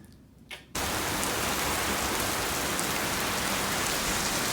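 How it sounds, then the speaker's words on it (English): Heavy rain pours down steadily at Saratoga Springs in a dense, loud hiss after a brief quiet start, with no voices. "So the rain found us. It found us! And it is pouring here at Saratoga Springs."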